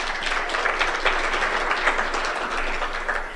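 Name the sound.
audience applauding Martha Karua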